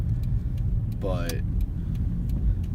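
A manual-transmission car is being driven, its engine and road noise forming a steady low rumble throughout while a voice speaks over it.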